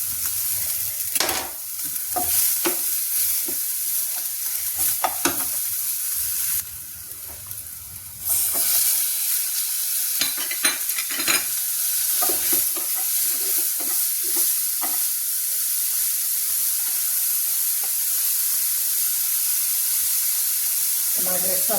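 Chili sizzles loudly as it fries in a pan for matar nimona, a peas dish, with the scrape and clatter of stirring over a steady hiss.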